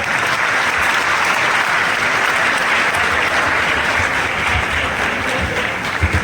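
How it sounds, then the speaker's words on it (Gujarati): Audience at a district-level youth festival held at Buhari High School applauding for themselves, a dense, steady burst of many hands clapping throughout, loud and continuous with no voices over it. "બધા એકવાર તાળીઓ પાડે પોતાના માટે"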